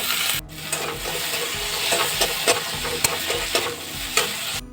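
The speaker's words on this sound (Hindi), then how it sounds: "अब इसको थोड़ा मैं फ्राई होने दूंगा।" Potatoes and chili fry in a pan with a steady, close sizzle and crackle, broken by repeated scraping stirs and small clicks of a utensil against the pan.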